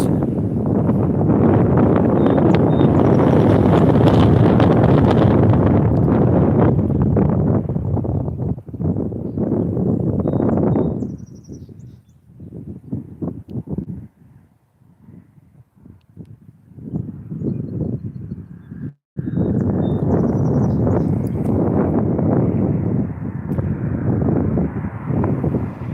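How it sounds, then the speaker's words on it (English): Strong wind buffets a microphone at trackside while waiting for a CSX train, loud and roaring with gusts, dropping briefly to quieter rustle midway before surging back. "Wind. I hear more than wind."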